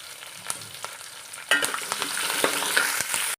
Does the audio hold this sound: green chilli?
yes